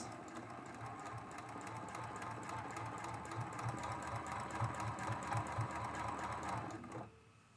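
A sewing machine stitching steadily during free-motion quilting on a mug rug, a close, even mechanical whir with rapid needle clatter that runs continuously and then stops abruptly near the end.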